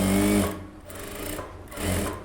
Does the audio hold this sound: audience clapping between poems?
no